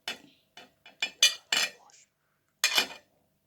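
Garlic, ginger and lemon slices dropped into an empty bottle make a series of close, bright clinks and taps, several quick knocks followed by one after a short pause.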